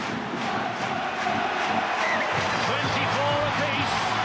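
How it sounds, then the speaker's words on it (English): A big rugby league play-off crowd, Warrington Wolves against Leeds Rhinos, roars and cheers as the scores are levelled, a sustained loud wash of voices under a commentator talking. "Listen to the crowd."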